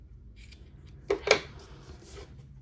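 Scissors trimming yarn tassel ends, two quick close snips in succession, faint and crisp against a quiet room.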